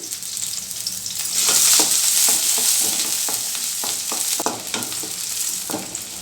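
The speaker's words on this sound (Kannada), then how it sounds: "ಈಗ ಈರುಳ್ಳಿ ಫ್ರೈ ಆಗಿದೆ" Onion and garlic frying in oil in the same pan, a loud continuous sizzle heard up close, with repeated spatula scrapes and knocks against the pan and no voices.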